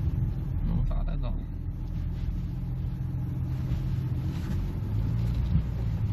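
BMW E39 with a 2.8 engine heard from inside while driving, a steady low engine rumble and road drone running throughout, with faint voices in the cabin.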